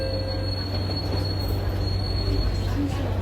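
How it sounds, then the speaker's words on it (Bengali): A Singapore MRT train near Joo Koon runs steadily, heard from inside the carriage: a constant low rumble with a sustained high wheel squeal riding above it. "এটা সিঙ্গাপুরের ট্রেন"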